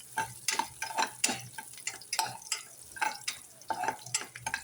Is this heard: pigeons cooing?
no